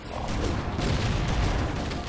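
Shotgun fire in the game Halo: Combat Evolved Anniversary, heard as a continuous, dense wash of booming blasts and mechanical clatter over a short stretch, loud and unbroken.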